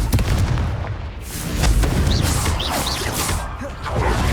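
Confringo fire spells in Hogwarts Legacy burst as a string of heavy booming blasts with whooshing impacts, loud and close, mixed with brief in-game voice sounds.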